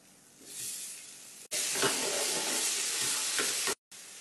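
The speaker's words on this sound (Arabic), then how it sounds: "راح أشوي الربيان على الجهتين." Shrimp grilling in a hot pan, a broad steady sizzle that swells up after a short break and holds, close and bright, with a brief cut near the end.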